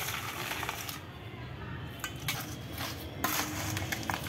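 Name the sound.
hands mixing fish waste with jaggery in a bowl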